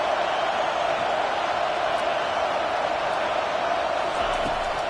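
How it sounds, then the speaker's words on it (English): Stadium crowd roaring for the defense on a third down at a football game, a steady, dense wall of noise that holds at an even level throughout without clear peaks. "Decibels rising as the crowd gets behind this defense on third down"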